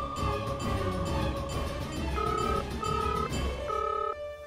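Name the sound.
telephone ringing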